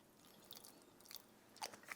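Close, quiet crunchy chewing of freshly seasoned coleslaw, a few soft bites and crisp crunches scattered over near silence, with no talking.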